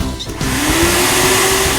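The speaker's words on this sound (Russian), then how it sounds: "Это мама пылесосить начала." A household vacuum cleaner switches on after a brief pause and runs loud and steady, its motor whine climbing slowly in pitch and holding for nearly two seconds.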